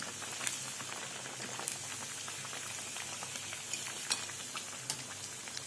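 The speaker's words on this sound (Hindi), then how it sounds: "इस तरह से बाकी के साबूदाना वड़ा तल लेंगे।" Sabudana vadas deep-frying in hot oil, a steady close bubbling crackle with scattered sharp pops throughout.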